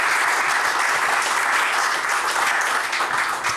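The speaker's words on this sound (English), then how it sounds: "Can we please give a round of applause for Glen?" Loud, dense applause from a festival audience at an Edinburgh Festival live show, a continuous wash of clapping at full strength from start to finish.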